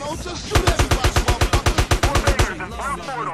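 A fast, even burst of automatic gunfire in GTA San Andreas, around fifteen sharp shots in steady rhythm, loud and close, with voices talking just before and after.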